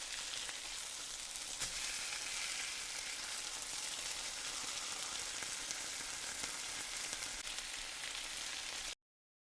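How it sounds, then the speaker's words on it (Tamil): A mutton cutlet shallow-fries on a tawa over a rocket stove on a terrace, giving a dense, even, continuous sizzle close by with no talk, cutting off abruptly at the end. "நம்ம ஷாலோ ஃப்ரையே பண்ணலாம்"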